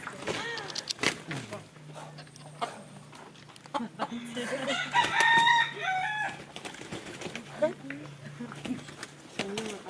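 A rooster crows on a coffee and cocoa farm, its calls rising clearly mid-clip among hens, while people talk throughout and a steady low hum runs underneath.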